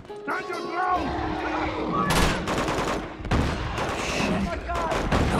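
Gunfire in the action game Uncharted 2: Among Thieves, with bursts of automatic shots and sharp single cracks mixed with thuds, punctuated by shouting voices over a busy combat din.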